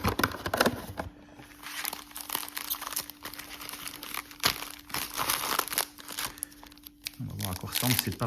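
Packs of 2024 Mosaic football trading cards being torn open, with continuous close crinkling and tearing of foil wrappers over a steady hum.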